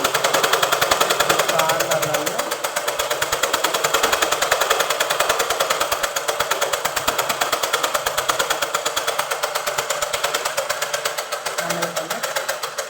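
A sewing machine stitches a readymade churidar sleeve, its rapid needle chatter running loud and steady up close throughout, with faint voices occasionally underneath.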